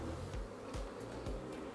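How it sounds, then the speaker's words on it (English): Honey bees swarm around an opened hive box holding honey, a constant close buzzing drone with individual bees swooping past the listener now and then. "can you hear the noise that they're making? It's just a normal bee sound."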